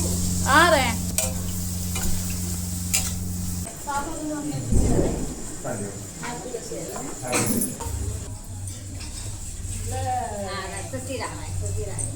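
Food frying in a pan sizzles steadily throughout, with a few scraping stirs near the start, while a voice talks over it intermittently.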